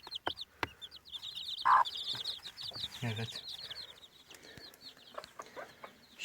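A mother hen clucks in a coop with her chicks of the Trabzon gugullu breed, soft repeated clucks mixed with high chick peeps close by, while a voice speaks briefly.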